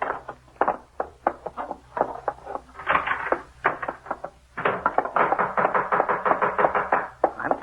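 Knocking on a door in a 1950s radio detective drama: a long run of firm, fairly rapid raps in uneven bursts, with brief pauses between clusters. The knocks are close and sharp and heard alone.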